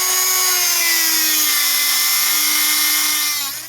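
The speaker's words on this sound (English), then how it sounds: "Okay, finished grinding here" Steady high-pitched whine of a grinder cutting notches into a metal adjuster cap tool for SR Suntour bicycle forks, held at one pitch for several seconds before spinning down and fading at the end.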